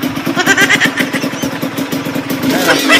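Upgraded 125 cc motorcycle at a motor parts shop, engine running with a loud, steady rapid putter close by as people talk over it.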